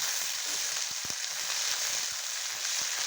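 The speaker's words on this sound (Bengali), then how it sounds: "সামান্য ভেজে নিচ্ছি।" Mustard seeds fry lightly in hot oil for a pickle, a steady close sizzle with scattered small pops and crackles throughout, no voices.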